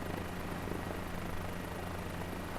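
A helicopter flying in Microsoft Flight Simulator gives a steady, dense rotor and engine drone that holds without change throughout, loud and continuous, with no voices over it.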